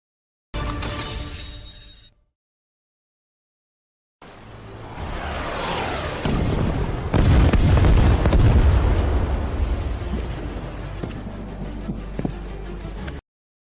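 A bazooka fires and its blast erupts into a long, heavy roar that swells and rumbles for several seconds before cutting off, preceded by a short burst of other sound and a brief silence.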